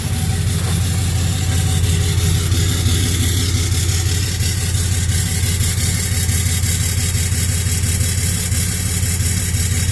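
A tuned 2014 Ram pickup with the 6.7 diesel, showing a fault where something puffs from the dipstick tube, idles in a steady, loud, continuous rumble, with no talk.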